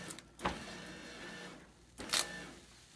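A Scorpio laminator's motor whirs briefly as it feeds lamination forward, with two short mechanical bursts a little over a second apart against a quiet background.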